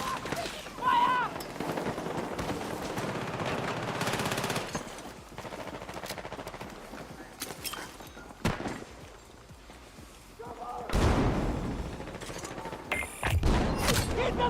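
Gunfire in a shooter game: bursts of rapid machine-gun fire and scattered shots, loud in places and fading in others, mixed with battle noise and shouting soldiers.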